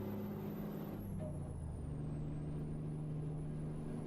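A truck rolls along with a steady low engine drone and road rumble heard from inside the cab, with a faint hiss from the air brakes under the hum and no talking.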